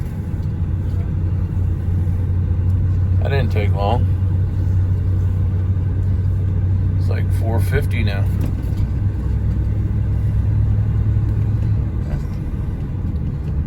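Low engine rumble of a tractor rolling along a road, steady and fairly close, with a person speaking briefly over it.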